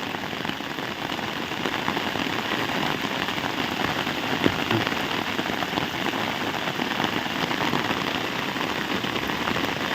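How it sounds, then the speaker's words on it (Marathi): Heavy rain falls steadily around a village house in Mahad, a dense unbroken hiss of drops on surfaces, loud and close throughout, with no voices. "काल रात्रीपासून पाऊस भरपूर पडतोय"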